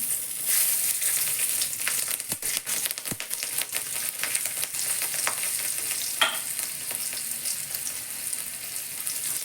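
Whole spices sizzle steadily in hot oil, with cardamom, cinnamon, cloves, bay leaf and green chilli spitting and crackling in a continuous bright fry, broken by a few sharper pops and occasional stirring clatter.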